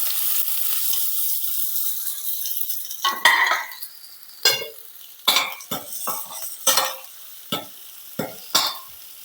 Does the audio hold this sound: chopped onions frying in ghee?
yes